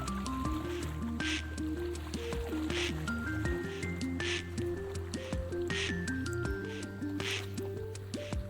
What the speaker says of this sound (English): I love water sounds.